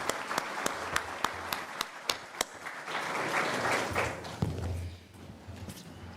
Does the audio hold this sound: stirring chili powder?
no